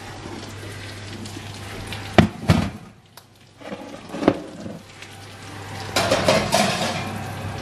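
Bread loaves slid into a home oven for a full meal with potato gratin and kefta, heard as a few close clunks and metallic clatters of a tray and oven rack over a low steady hum, with one sharp knock and some rustling near the end.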